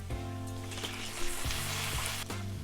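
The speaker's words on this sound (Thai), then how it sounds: "กระเทียมเริ่มจะเหลืองหน่อยๆ แล้วนะ แต่มันก็ใส่หอยเชลล์ลงไปเลยค่ะ" Scallops sizzle in a pan of garlic butter, a loud, steady frying hiss with soft stirring knocks now and then. No one speaks.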